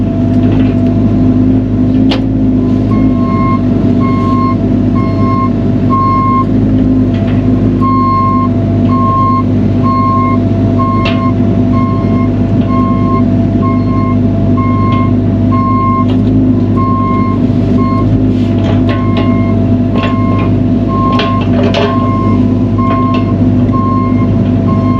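A vehicle reversing alarm beeps in a regular repeating pattern over a steady engine hum, loud and close, continuing throughout with no talking.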